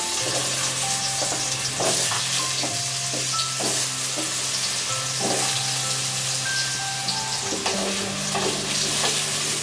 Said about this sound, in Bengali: আলুগুলো দিয়ে একটু ভেজে দিচ্ছি